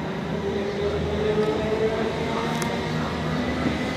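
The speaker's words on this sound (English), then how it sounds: "Train now approaching platform 13 is the 1529 Southern service to East Grinstead" A Southern train rumbles steadily into a platform at Clapham Junction, its loud, continuous low roar and rail noise carrying a faint squeal of wheels.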